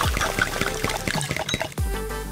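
Heavy cream pours into melted green candy, a soft liquid stream with small splashy pulses, heard close and alone over light background music.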